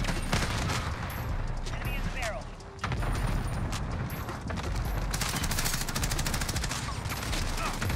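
Rapid gunfire from an Uzi in a video game, dense overlapping bursts of shots and explosions filling the whole stretch, with a short lull near the middle, while a voice speaks over it.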